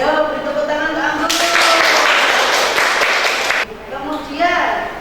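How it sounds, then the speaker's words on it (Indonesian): A classroom group clapping for a student after a makeup presentation, a burst of hand claps over roughly two seconds between stretches of a teacher talking. "beri tepuk tangan ke Anggun."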